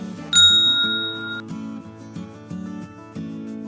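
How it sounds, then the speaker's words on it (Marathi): A bright, ringing notification bell ding sounds once near the start and rings out for about a second, followed by a light, bouncy music loop. "ही घंटी वाजवा"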